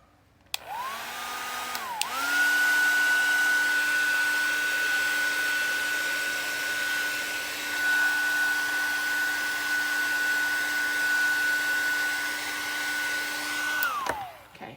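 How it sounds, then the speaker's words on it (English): A handheld heat tool runs steadily for about twelve seconds, setting StazOn stamp ink on metal or plastic, with a high whine and broad airy hiss that rise after a brief start and stop, then wind down at the end. "so we're going to heat set this one more time"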